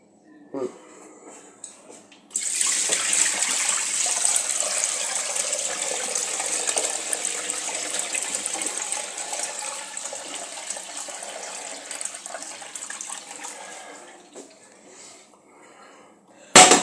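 Water runs steadily from a tap for roughly twelve seconds while something is rinsed, a loud even splashing hiss that starts abruptly and tapers off near the end.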